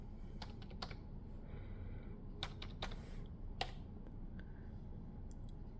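Quick bursts of clicking keystrokes from a small Bluetooth keyboard used to log in to a docked Asus ROG Ally handheld, close and crisp over a low steady hum, with irregular pauses between taps.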